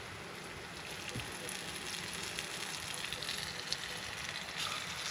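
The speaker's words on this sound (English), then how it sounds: "we'll just put it in. There should be a nice sizzle." Mullet fish sizzles in a frying pan, giving a faint, steady crackling hiss with small pops throughout and no talk.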